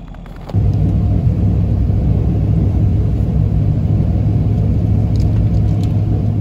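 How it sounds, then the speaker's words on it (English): A pickup truck heading out to plow snow gives a steady, close engine rumble with a low droning hum, starting abruptly and holding constant throughout, no voices. "we're gonna jump in the truck with Dad and go for a little plow"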